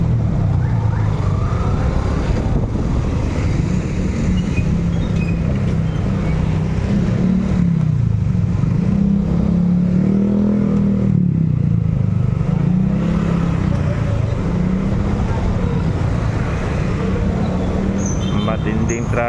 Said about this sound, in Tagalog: Matinding traffic ito mga master.